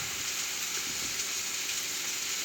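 Pork tenderloin and onions fry in a pan with a soft, steady sizzle and faint crackle throughout, with no talk.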